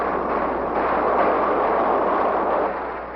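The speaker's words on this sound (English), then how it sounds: "Tactical fighters continue their precise attacks, complementing the heavy bombardment of the B-52s" B-52 heavy bombardment and artillery explosions at Khe Sanh in the Vietnam War form a sustained, loud, rolling roar of blasts that stays dense throughout and eases slightly at the end, with no voices.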